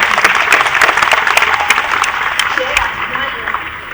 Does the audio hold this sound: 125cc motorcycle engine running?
no